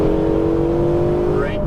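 A Ferrari 488 GTB engine, loud and close, drones steadily on a race track during a downshift, its pitch shifting near the end while an instructor talks over it.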